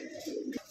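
A pair of large Bombay pigeons in breeding condition coo nearby, a brief throaty rolling call that rises and then stops abruptly.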